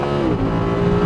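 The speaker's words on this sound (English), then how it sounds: "it's like launch control program activated, and I let go of the sidestep, hold the steering wheel, and pray" Audi R8 Spyder under launch control, its engine roaring loud and close with a steady, sustained drone as it accelerates hard from a standstill.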